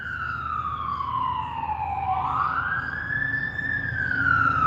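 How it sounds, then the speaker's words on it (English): A fire truck siren wails loudly and steadily, its pitch sliding down then rising again in a long sweep, with traffic rumble underneath. "Oh, fire truck."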